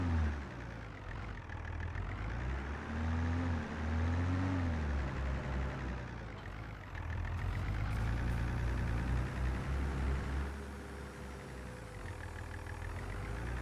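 Fiat Agri tractor engine in Farming Simulator 22, a 140-horsepower machine, drones steadily at a low idle with mild revs rising and falling, continuous and fairly close throughout.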